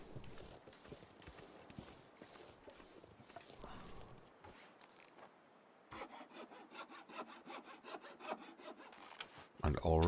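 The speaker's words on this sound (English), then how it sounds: "And already our hacksaw is starting to suffer." Hacksaw cutting cedar firewood in the video game The Long Dark, a series of soft rasping back-and-forth strokes that grow louder and more regular in the second half, heard alone without talk.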